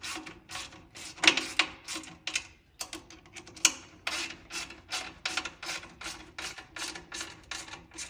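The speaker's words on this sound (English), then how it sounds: "After that, tighten up these screws." Screws being tightened on the cable cover of a Boldan RotoMax drain-cleaning machine, close and busy with repeated short scraping, ratcheting turns in a quick uneven rhythm, no speech.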